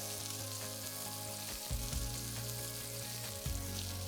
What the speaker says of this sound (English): I'll just take them off and continue cooking the rest of the meatballs in batches